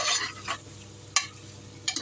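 Pepper chicken fry sizzles in a pan while a spoon stirs and scrapes it, soft frying hiss broken by a few sharp metallic scrapes and clinks, with no talking.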